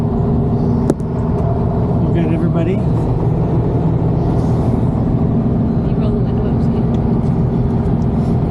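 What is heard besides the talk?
original 1963 VW Beetle with 40 hp engine driving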